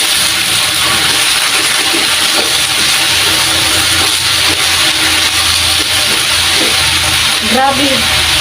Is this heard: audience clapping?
no